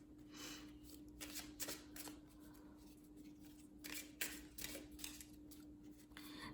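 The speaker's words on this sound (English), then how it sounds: "let's pull one more card for you." Tarot cards being shuffled by hand, a run of quick riffling and flicking bursts repeated several times at close range, with a faint steady hum underneath and no talking.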